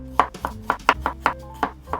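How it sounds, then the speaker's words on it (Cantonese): Garlic being chopped with a knife on a cutting board, about nine quick, sharp chops in an even rhythm, close and distinct. "咁我哋切好晒啲薑，咁啊切埋啲蒜頭。"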